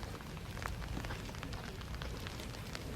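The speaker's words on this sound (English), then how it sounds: "it did start to rain." Light rain patters outdoors beside a castle with a bay and garden in Denmark, a faint, steady hiss dotted with scattered drops.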